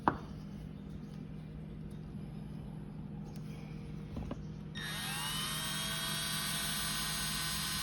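A 6.0 diesel spool valve being lapped by spinning it with a tool, heard up close as a steady high-pitched whir that starts partway through after faint clicks and quiet handling.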